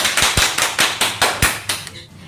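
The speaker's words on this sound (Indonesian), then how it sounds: "Tepuk tangan untuk kita semua yuk" Children in a classroom clap together in a loose rhythm, about ten sharp claps at even spacing that fade out at the end, loud and close.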